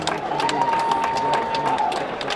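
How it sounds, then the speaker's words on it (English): A live boxing crowd at GBM Sports at the Magna in Sheffield, UK, gives a steady round of applause, dense clapping sustained throughout at fairly close range. "have a big round of applause first of all to IZZY for putting on a great show tonight"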